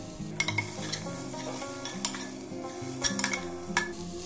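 Spice powders (turmeric, chilli, Kashmiri chilli, cumin, coriander) sautéing in a pan for egg biryani, a close sizzle broken by repeated scraping and clinking of a spoon against the pan.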